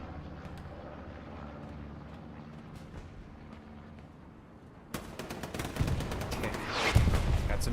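Machine gun fire in the WWII shooter Hell Let Loose, starting distant and faint under a low droning hum, then breaking into loud, close bursts of rapid automatic shots.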